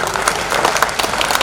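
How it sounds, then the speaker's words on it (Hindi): Audience applause at a Hindi comedy poetry gathering (hasya kavi sammelan), a full crowd clapping steadily and loudly with sharp individual claps standing out, no talk over it. "एक बार तालियां बजाइए।"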